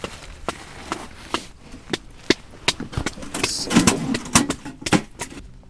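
Sharp, irregular knife chops splitting kindling wood for a wood stove, a dozen or so close, crisp cracks and taps scattered over several seconds with no talk.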